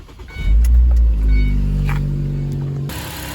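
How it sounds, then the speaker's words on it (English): A car engine cranks and fires up, then settles into a steady idle with a low, even rumble close to the microphone, ending with a brief burst of broadband noise. "I'm just gonna get the car started now"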